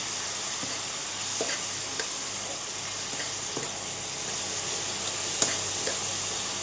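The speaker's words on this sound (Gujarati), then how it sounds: "પરવળ અને ટામેટાને આપણે વઘારમાં એડ કરી દઈશું" Chopped pointed gourd and tomatoes dropped into hot oil tempering, giving a soft steady sizzle with a few faint clicks and scrapes from stirring, fairly quiet and close, without voices.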